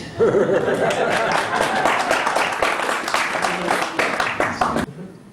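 Crowd applause at a flat-earth comedy show, a thick burst of clapping mixed with chuckles and murmuring that holds steady, then cuts off abruptly.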